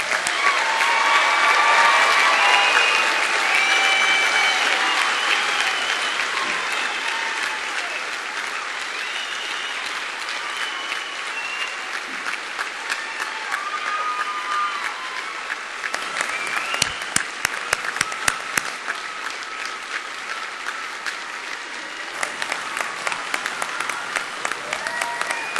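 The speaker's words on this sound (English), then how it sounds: "I invite the audience to join me in applauding your success." Long, loud applause from a university commencement crowd honoring spring graduates, a dense wash of clapping that gradually thins with scattered sharper claps and faint voices toward the end.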